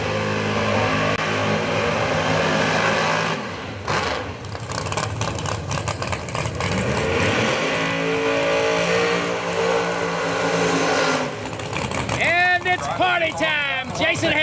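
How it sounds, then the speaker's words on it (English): Brand new Robert Hayes Motorsports drag race car at a PDRA test session at Maryland International Raceway, its engine roaring loud and steady as it accelerates, with an announcer talking over the noise throughout. "Brand new car out of Robert Hayes Motorsports."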